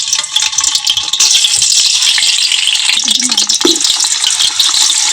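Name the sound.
eggs frying in oil in a pot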